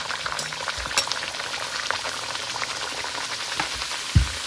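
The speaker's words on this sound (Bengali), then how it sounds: "সেই তেলেই আমি লুচি ভেজে নিচ্ছি।" Whole-wheat flour luchi frying in hot oil in a small kadai, giving a steady, dense crackling sizzle throughout with a couple of brief clinks from the pan.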